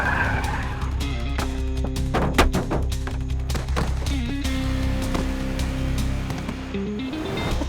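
A car brakes hard on a jungle road, tires squealing and skidding in long sustained tones over engine rumble, with a few dull thumps partway through; no talking.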